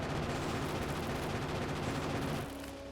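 Defensive turrets in a factory video game fire rapidly, a loud, dense, continuous stream of shots that stops abruptly near the end, with no one speaking.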